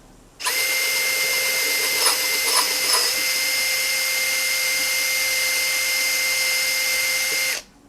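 Electric drill with a 4.5 mm bit boring through a steel nut, making a loud, steady high-pitched whine that runs continuously for about seven seconds, with brief rougher bursts as the bit bites, then stops abruptly.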